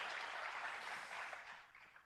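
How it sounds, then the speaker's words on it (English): A conference audience at a biodiversity measurement event applauds a set of case study presentations, a steady, faint wash of many hands clapping that slowly thins and fades toward the end. "Can we get a round of applause for our three brilliant case study presentations as well?"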